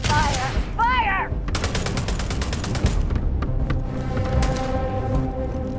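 Gunfire in Starfield: bursts of rapid automatic fire, loud and close, mixed with single shots and a brief electronic chirp at the start; no talk over it.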